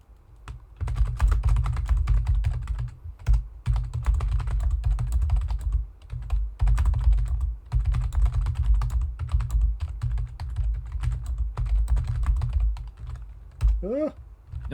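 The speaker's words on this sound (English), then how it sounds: "I'm like sweating from typing Ed balls" Fast, continuous computer keyboard typing during a PC typing game, dense rapid clacking keystrokes nearly throughout with brief pauses, ending with a short whistled or vocal squeak.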